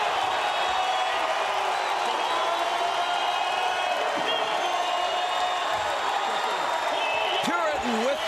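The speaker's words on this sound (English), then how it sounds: "Look at this crowd." A packed arena crowd at a Penn State versus Nebraska college wrestling meet roars continuously after a pin, with a commentator talking over the sustained cheering.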